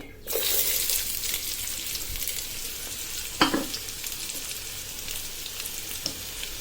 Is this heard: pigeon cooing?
no